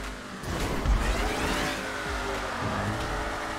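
A car driven in the video game GTA 5 during an extreme-speed race, its engine giving a steady roar with a heavy thump near the start, continuous and close for the whole stretch.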